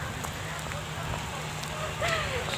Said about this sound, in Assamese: দেখিব পাৰিছে বৰষুণ।